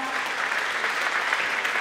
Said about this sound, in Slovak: Ešte raz potlesk pre Roberta Sotáka